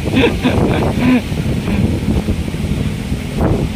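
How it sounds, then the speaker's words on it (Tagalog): Strong wind roars across an open waterside promenade as heavy rain suddenly pours, a dense, steady wash of noise with buffeting gusts on the microphone and faint voices mixed in. "nakita nyo na ang lakas ng hangin at biglang bumuhos ang ulan"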